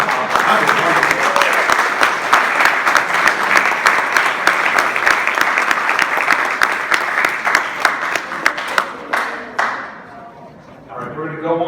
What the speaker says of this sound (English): how about another round of applause for Tom?